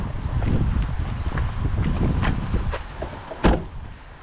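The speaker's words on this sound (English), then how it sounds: "Actually, let me shut my door." A car door shuts with a single solid thump near the end, set against steady wind and outdoor rumble in a riverside parking area where people unload before a river race.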